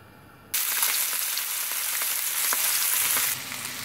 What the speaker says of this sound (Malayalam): വളരെ കുറച്ച് എണ്ണ ഒഴിച്ച് കൊടുത്തിട്ടാണ് ഞാനിത് മുരിച്ചെടുക്കാൻ പോകുന്നത്.